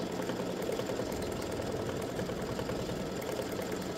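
An embroidery machine stitches a satin border around game pieces, giving a quiet, steady, rapid mechanical whir with fine repetitive ticking, continuous and faint, with no voices.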